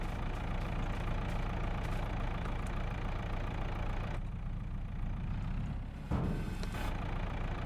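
Tractor engine idling in Farming Simulator 25 on a farm, a steady mid-pitched rumble held close and constant, briefly dipping near the end, alone with no speech.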